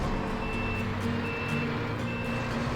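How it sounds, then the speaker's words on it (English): Steady repeating reversing beeps from a truck in the off-road driving game SnowRunner, sounding over a constant low engine rumble with no talk. "I just realized that this truck has backup sounds beeping"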